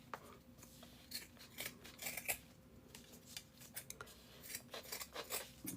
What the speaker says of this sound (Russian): и теперь самое крупное отрежу большими ножницами